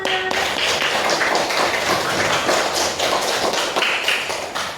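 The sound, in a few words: audience applause, clapping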